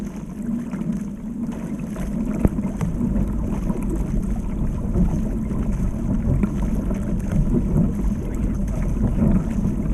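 A paddle drives a small boat hard and fast with strong downward strokes, making a continuous rushing swash of water and wind buffeting close to the bow, loud and steady without clear pauses.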